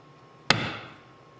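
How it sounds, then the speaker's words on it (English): A single sharp strike of an awl punching a divot into wood, close and crisp, with a short ringing decay afterward. "I used an awl to make a little divot where those lines intersected"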